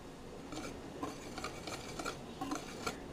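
Dry flour, cornstarch and baking soda being stirred together in a bowl for a kwek-kwek coating, a soft, steady scraping and swishing with light utensil taps, close and fairly quiet.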